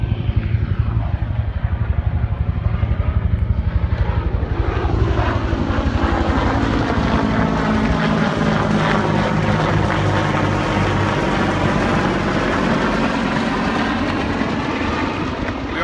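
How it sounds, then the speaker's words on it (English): Loud, steady drone of low-flying military helicopters near an airport, a deep rotor throb sustained throughout and close overhead, no talking. "which those are actually military helicopters"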